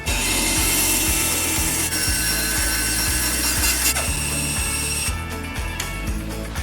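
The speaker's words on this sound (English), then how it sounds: "let me show you what happens when I try to cut a piece of this heartpine with that blade gummed up as it is" A bandsaw blade gummed up with pitch rubbing against a piece of heartpine, giving a steady, loud grinding rasp with a rhythmic, repeating low pulse and a dull motor hum, without cutting cleanly.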